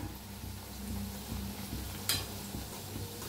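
A tomato puri is pressed down as it fries in hot oil, giving a steady, soft sizzle with light stirring sounds and a brief sharp clink partway through.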